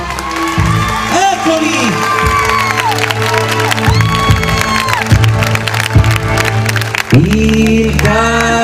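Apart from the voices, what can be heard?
audience applause and cheering at live show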